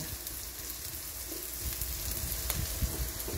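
Shredded cabbage sautéing in a hot pan, cooked sinibak style before corned beef goes in, gives a steady, close sizzle and crackle throughout, with no voices.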